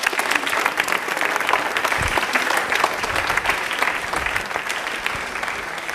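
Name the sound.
audience applause for a quiz contestant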